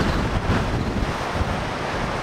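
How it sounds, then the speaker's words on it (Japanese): Very high sea waves crash and surge along the shore at sunset, a continuous loud wash of surf mixed with wind rumble on the microphone, with no voices over it. "いや、波めちゃくちゃ高いんですよ、これすごくない波。"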